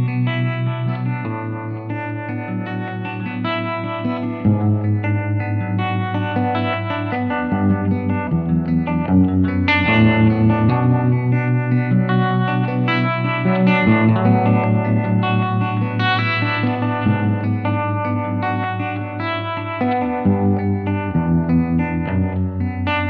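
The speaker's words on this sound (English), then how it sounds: "Then we're going to switch over to the harmonic tremolo." Electric guitar chords pulse with a harmonic tremolo effect, the tone wobbling steadily as sustained notes ring out with slight distortion.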